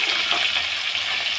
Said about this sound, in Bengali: এই যে আলুটা ভাজা হচ্ছে, ডিমের আলুটা ভাজা হচ্ছে।